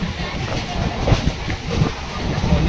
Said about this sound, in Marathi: दुर्वा असं बघ ट्रेनची मजा फोर व्हीलर पेक्षा भारी आहे ना